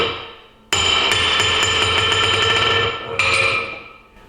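A hammer rings on a 125-pound anvil with a hardened steel plate top, two loud bright strikes, each followed by a rapid run of rebound bounces and a sustained metallic ring.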